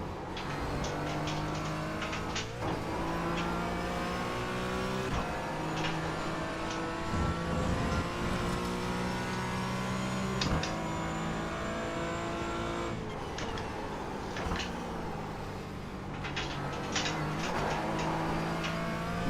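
GT4 race car engines roar continuously in an iRacing session at Imola, a high whining drone that rises and falls through gear shifts, with other cars buzzing nearby and no talk.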